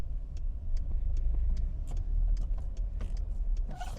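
A car driving in second gear through a left turn: a steady low engine rumble inside the cabin, with a regular ticking of the turn signal running through it, no voices.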